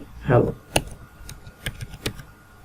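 Keys tapped on a computer keyboard, a short burst of separate clicks following a brief spoken word, close and moderately loud.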